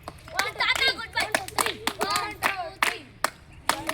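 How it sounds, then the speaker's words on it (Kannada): Children clap their hands during a mixed-seed sorting game in a classroom, a burst of sharp, close claps interleaved with lively kids' voices and chatter. "ಚಪ್ಪಾಳೆ ಹಾಕಿರಿ."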